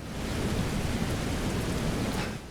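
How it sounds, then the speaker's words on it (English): Steady rain pours down during a storm in the Shadow Warrior 2 video game, a dense even hiss with a faint low rumble underneath, continuous throughout with no talking. "Looks like there's a storm brewing."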